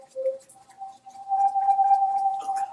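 A spinning corrugated tube is whirled faster overhead so that it sings its first overtone, a steady whistling tone that holds and swells louder partway through and carries on alone.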